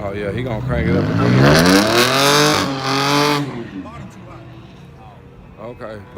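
Drag race car in a cheap street small-tire class, its engine cranking and then revving loud and close, rising and sustained, with people talking over it.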